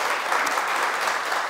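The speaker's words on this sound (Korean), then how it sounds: "다시 한번 큰 박수 부탁드립니다." An audience at a parenting talk-concert in Daegu claps, a dense, steady burst of applause that fills the moment without pause.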